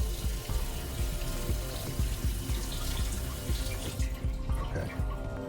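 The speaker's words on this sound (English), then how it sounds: "I do want to wash the lemons off before I use them" Tap water runs steadily into a kitchen sink while lemons are washed under it, a loud, continuous splashing flow with small knocks, close up, easing off near the end.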